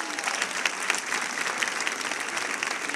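Audience applause at a live storytelling event in Riga, a steady dense clapping from a crowd filling the whole stretch without pause.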